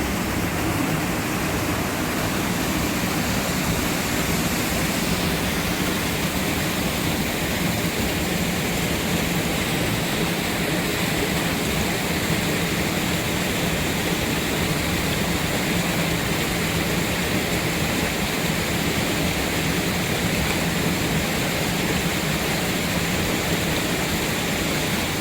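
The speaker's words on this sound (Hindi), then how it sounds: "तो पानी की ही सुंदर आवाज़ के साथ इस एपिसोड को ख़त्म करते हैं।" Water pours steadily through a traditional gharat water-powered flour mill in Himachal Pradesh, a loud, constant, close rushing roar that continues unbroken with no voices.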